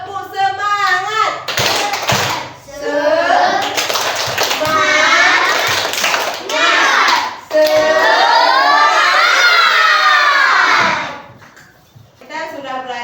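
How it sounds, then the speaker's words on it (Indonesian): A classroom of children, led by their teacher, claps a rhythmic spirit-clap chant, with patterned bursts of clapping mixed with loud shouted chanting voices and brief pauses between phrases. "Supaya kita lebih semangat lagi, mari kita tepuk semangat."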